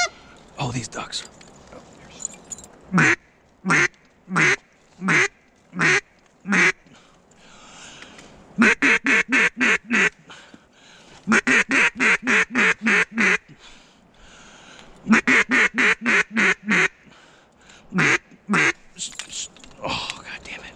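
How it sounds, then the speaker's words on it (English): Ducks quacking loudly during a waterfowl hunt, rapid runs of raspy quacks in rhythmic bursts of four to eight calls, close and prominent, separated by short pauses over a low background. "Oh, these ducks."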